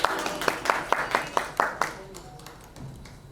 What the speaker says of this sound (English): With a huge round of applause, let's welcome her.